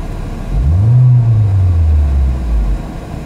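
A car engine that misfires and stalls on natural gas and gasoline/ethanol revs up in one strong surge, rising in pitch and then easing back down, loud and close, with no talking.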